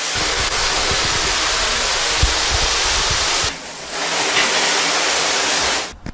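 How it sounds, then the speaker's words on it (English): A shower runs warm water to soak motorcycle gear, a dense, steady hiss of spray with a brief dip partway through, loud and close, before cutting off near the end. "Now just turn the shower on, give it a good soak with warm water."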